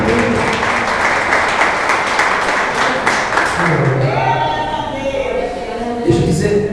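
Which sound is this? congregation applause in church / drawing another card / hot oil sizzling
congregation applause in church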